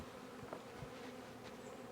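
A continuous drone of buzzing bees, fairly faint and steady, with no voices.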